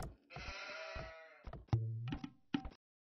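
Sheep in a strategy video game bleat in a few short, nasal calls with brief gaps between them, clear and close with no talk over them.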